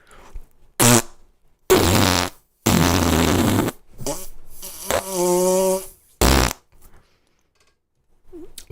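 Wet fart noises blown through moistened lips, a voice imitating the sound in several loud sputtering bursts of varying length, some buzzy and drawn out, separated by short silences.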